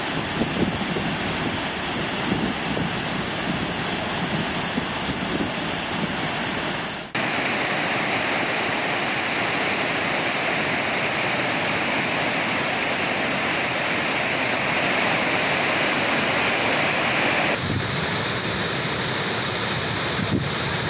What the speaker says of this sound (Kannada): ನಾರಾಯಣಪುರ ಡ್ಯಾಂನಿಂದ ಕೃಷ್ಣಾ ನದಿಗೆ ಭಾರೀ ಪ್ರಮಾಣದ ನೀರು ಬಿಡುಗಡೆ ಮಾಡಲಾಗಿದೆ